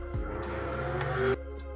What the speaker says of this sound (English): It sounds like a truck.